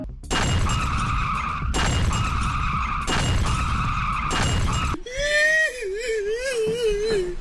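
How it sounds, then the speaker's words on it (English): A car smashes through a door in the top-down game Hotline Miami, heard as loud, repeated crashing and skidding bursts followed by a warbling whine, amid dense game noise. "this car comes flying through the door"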